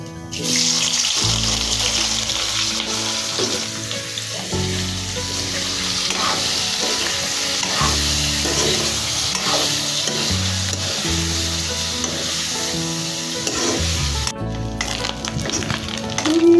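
Sausage pieces, onion and chilies fry loudly in a pan with a steady crackling sizzle, broken by stirring clatter and occasional shifts in intensity, with no one talking.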